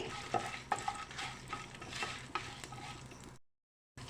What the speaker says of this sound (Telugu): పచ్చిపప్పు ధనియాలు జీలకర్ర ఇవి సిమ్లో పెట్టి ఫ్రై చేసుకోండి